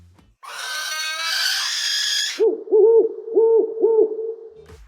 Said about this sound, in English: Fortunately, I think it was an owl